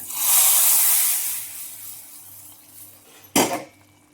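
A hot tempering of spices is poured into kootu in a Smartha Brahmin style kitchen, giving a broad hissing sizzle that fades over a few seconds, followed by a sharp metallic clank of a pan or spoon near the end.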